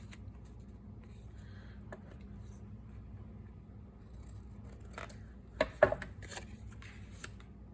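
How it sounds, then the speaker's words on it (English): Scissors snipping paper while making a foldout journal envelope: quiet, scattered crisp cuts and rustles, with a brief cluster of snips near the end over a low room hum. "So I'm going to cut this off."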